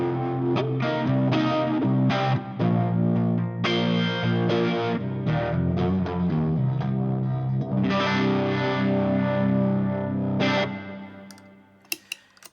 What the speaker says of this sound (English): And now to the Phase 95. I wanted a good phaser, and this is a good phaser.